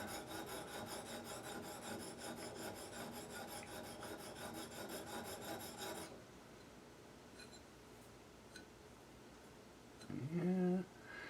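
A serrated stainless steel blade is sharpened with a fast, close, rhythmic rasping for about six seconds, then the scraping stops, leaving quiet room tone and a brief squeak near the end.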